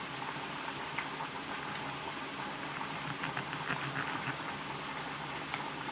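Fettuccine boils in a pot on the stove, a steady close bubbling hiss with faint irregular popping, continuous and without talk.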